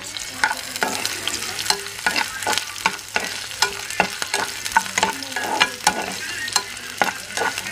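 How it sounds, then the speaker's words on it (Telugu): Green chillies and chopped onions fry in hot oil with a constant sizzle, punctuated by repeated sharp spatula scrapes and clinks against the pan, close and loud, with no talking. "నూనె కాగినాక పచ్చిమిరకాయలు తరిగిన ఎర్రగడ్డలు వేసి కొద్దిసేపు వేయించాలి"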